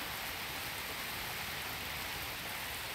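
Rain effect in the Dies Irae visual novel, a steady, dense hiss of falling rain without pauses, even and moderately loud throughout.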